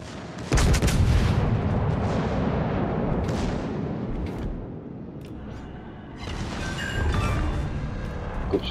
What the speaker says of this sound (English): my shells have just landed on him